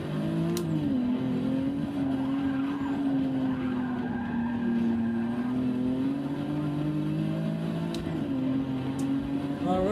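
Porsche race car in Forza Motorsport 6, engine droning and shifting pitch as it corners, with tires skidding and squealing, loud and continuous.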